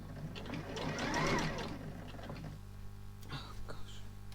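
A domestic sewing machine runs a stitching burst that swells and fades over about two seconds, followed by quieter mechanical clicks and handling sounds.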